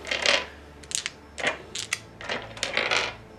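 Dice are rolled in a Warhammer 40,000 Kill Team tabletop game, making several bursts of close clattering and rattling as they tumble and knock together on a hard surface, with no talk over them.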